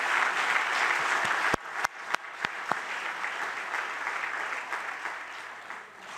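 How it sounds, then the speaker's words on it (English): Assembly audience at a general meeting giving warm, sustained applause in memory of Johan Neeskens, a dense crowd of clapping with a few sharp nearby claps standing out, tapering slightly toward the end. "I would like him to listen to this very warm applause in his memory."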